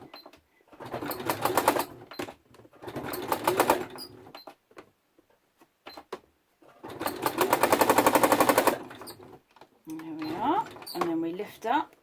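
A sewing machine does free-motion embroidery stitching grasses, running in several fast rattling bursts separated by pauses, loud and close, with brief clicks and adjustments between runs.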